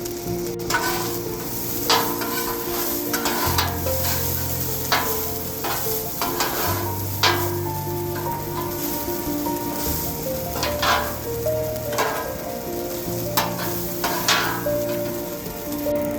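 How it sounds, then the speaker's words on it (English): White rice and vegetables tossed in a hot frying pan, with steady sizzling frying and repeated scraping, clattering strokes of a utensil against the pan, close and loud throughout. "We've just added our white rice. We're going to toss everything together."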